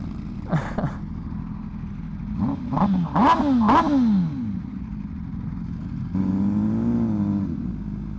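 An MV Agusta Brutale 1000RR is ridden, its engine rising and falling through rapid revving sweeps and gear changes over a steady rumble, with a throaty drone held near the end.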